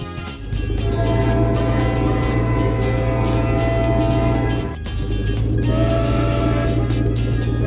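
A glowing cartoon train landing in a backyard gives a loud, steady rumbling hum with droning tones, dipping briefly midway before surging back at full strength.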